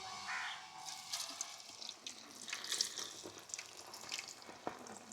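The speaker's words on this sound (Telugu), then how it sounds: "మ్యారినేట్ చేసుకున్న చికెన్ అయితే ఇప్పుడు డీప్ ఫ్రై చేసుకుంటాను." Marinated chicken deep frying in hot oil gives a faint, steady crackling hiss dotted with small scattered pops, with no one talking.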